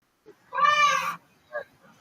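Cat giving one clear, drawn-out meow close to the microphone, followed by a short softer chirp-like call.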